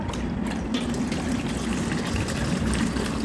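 Cold water is poured and mixed into a bowl at home, making a continuous close gushing, splashing rush that stays fairly loud and even throughout.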